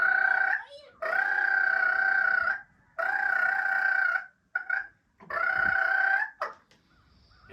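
A man imitates a turkey's purr with his lips, producing a rolling, trilled call in several sustained bursts separated by short pauses, close and clear.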